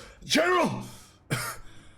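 A voice imitates a harsh, throaty cough, followed by a short shouted call of "General!"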